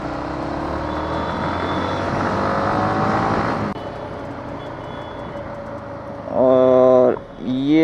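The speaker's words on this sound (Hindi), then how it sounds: "वाह, ट्रैफिक, हमारे यहाँ भी ट्रैफिक लगता है" Road traffic heard from a Yamaha R15M motorcycle: a continuous engine and wind roar that drops off abruptly, then a nearby vehicle revving or honking in short harmonic bursts near the end.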